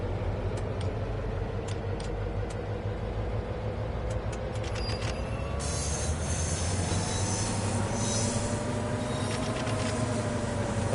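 Freight train shunting in the Train Sim World game, with a steady loud rail rumble, creaking wagons and occasional squeals and clanks as cars are pulled back and forth, no talk.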